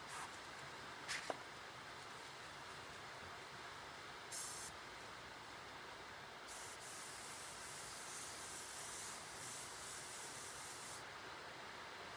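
An airbrush sprays paint in a soft, steady hiss that comes and goes in bursts, faint and close, with a few light handling knocks in a quiet studio.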